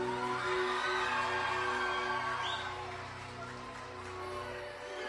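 An audience at a live song performance cheers and whoops for the composer, a loud burst of crowd noise that eases slightly and then swells again.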